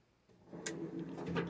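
Drawers on a Workpro workbench in an apartment home shop slide open and shut, giving a couple of close wooden-metal rumbles with short knocking clicks at the ends.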